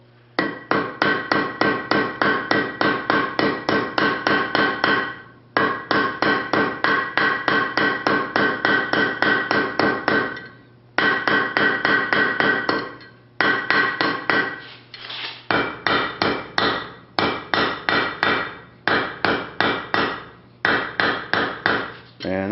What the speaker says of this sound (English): while this is still hot, I'm going to come over to the horn of the anvil